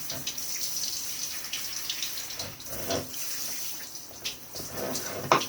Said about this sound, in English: I'm going to leave that water on